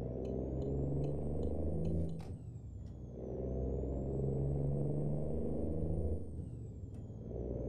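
A truck engine in American Truck Simulator drones at around 2000 RPM, a loud steady low rumble that briefly dips during a gear change, with a faint whine above.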